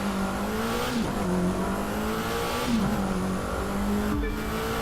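Car driving in the racing game The Crew 2, a continuous engine drone that rises through the gears with brief dips at each shift, loud and steady with no voices.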